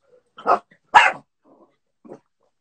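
A dog barks twice loudly nearby, then gives a softer short bark after a pause, in otherwise quiet surroundings.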